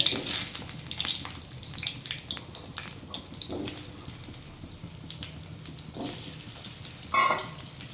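Potatoes frying in hot oil with a bay leaf, a steady close sizzle and crackle running throughout with a few louder bursts of spatter.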